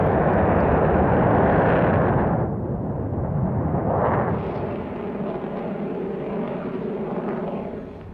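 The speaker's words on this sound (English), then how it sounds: "The Valiant was followed into service by the remarkably advanced Avro Vulcan." Avro Vulcan delta-wing jet bomber passing with a loud, broad jet roar that swells, eases and surges again, then slowly fades away.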